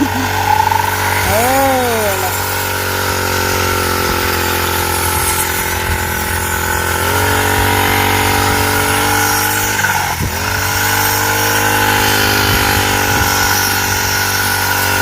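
A rice harvester engine revving during rice cutting in a field: a loud, steady mechanical drone with strong tonal harmonics that swoop up and dip in pitch as the throttle changes, running continuously without talk.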